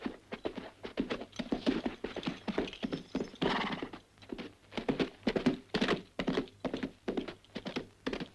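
Steady clip-clopping of several horses walking, hooves striking in an uneven overlapping rhythm, close and continuous with no talking.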